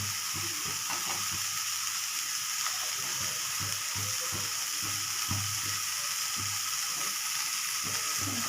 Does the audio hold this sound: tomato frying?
yes